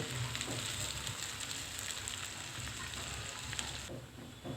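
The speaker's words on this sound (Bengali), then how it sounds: "পেঁয়াজটা একটু ভালো করে বাদামি কালার করে ভেজে নিতেছি" Onions frying in hot oil for a beef and chana dal curry, a steady dense sizzle and crackle throughout, close and even, with no voices.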